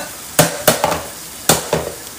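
Chopped tomatoes, cut in a food chopper, are tipped into a pan of sizzling meat while cooking African-style vermicelli with meat, giving a few sharp splattering bursts over a low frying hiss.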